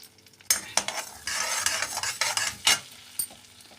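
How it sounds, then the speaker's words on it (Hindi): Cumin seeds crackle and sizzle in hot oil, a loud close burst of spattering with stirring scrapes and a few sharp pops. "मैंने इसमें सबसे पहले डाला जीरा, देखिए"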